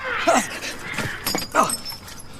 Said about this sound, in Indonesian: Sampai-sampai gelas David terjatuh dan pecah.